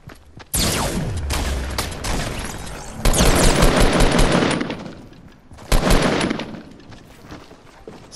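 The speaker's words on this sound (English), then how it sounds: "Let's go up there and get this guy with the shotgun." Gunfire in the video game Fortnite comes as three loud, close blasts, each followed by a long ringing decay and rattling tail, spaced a few seconds apart.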